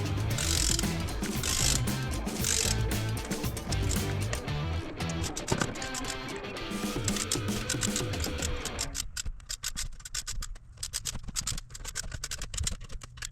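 A ratcheting wrench tightens cylinder head bolts on a 4.7 engine, giving a fast, continuous run of clicking pawl ratchets that thins into sparser clicks toward the end.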